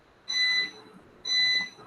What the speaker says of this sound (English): there is a beep sound